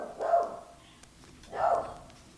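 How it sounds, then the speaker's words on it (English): A dog barks twice at thunder, two fairly close, moderately loud barks about a second apart with quiet room tone between them. "it's thunder! You don't need to bark at it!"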